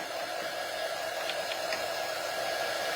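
A hair dryer blows in a steady, unbroken rush of air that stays even and fairly loud for the whole stretch, with no voices over it.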